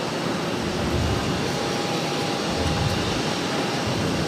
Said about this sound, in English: we got another heavy right about to arrive on runway 22 left